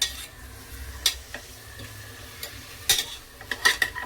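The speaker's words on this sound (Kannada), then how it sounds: "ಮತ್ತೆ ಕೊತ್ತಂಬರಿ ಮತ್ತೆ ಪಾಲಾಕು ಇದನ್ನ ಒಂದು 2 ನಿಮಿಷ ಫ್ರೈ ಮಾಡ್ಕೊತಾ ಇದ್ದೀನಿ" Coriander and spinach are stirred in a frying pan, with a low sizzle under repeated scraping and clinking of a spoon against the metal at uneven intervals.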